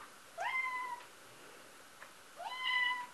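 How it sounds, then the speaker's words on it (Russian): A cat yowls twice, long drawn-out meows with a gap between them, fairly close in a quiet room. "Зато вы услышали, как кот орет."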